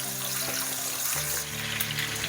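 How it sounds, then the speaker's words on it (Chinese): Ginger, garlic and small chili peppers hitting hot oil in a wok, with a loud, steady, close sizzle that spreads as the aromatics fry. "油热，放入生姜、大蒜、小米辣， 然后给它爆香"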